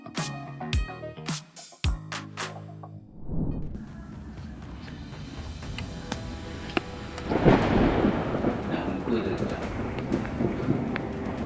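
Thunder from a lightning bolt striking a train near Noborito Station in Kawasaki: a sharp crackling cluster of impacts, then a long heavy rumble with rain-like hiss building and swelling toward the end.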